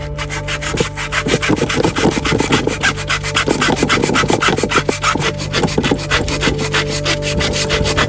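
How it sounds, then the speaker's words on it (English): Steady, rhythmic rasping of a 120-grit sanding block scrubbed back and forth, continuous strokes close up with no talking. "So again, 120 on a sanding block."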